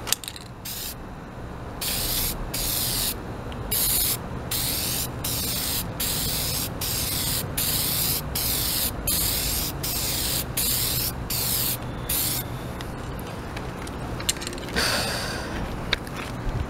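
An aerosol can sprays a second coat of paint over wheel well rust on the front of a van, a close, loud hiss broken into a steady series of short bursts with brief pauses, ending in one final longer spray.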